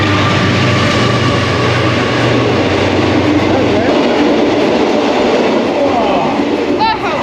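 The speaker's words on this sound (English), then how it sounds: "Train coming." A train rumbles past very close to an off-grid campsite, a loud, continuous roar with low rhythmic wheel noise that fades out near the end, while people talk and camp sounds carry on nearby.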